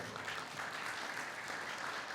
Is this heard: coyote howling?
no